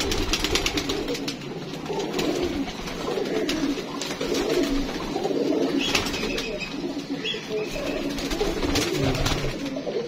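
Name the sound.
pigeon cooing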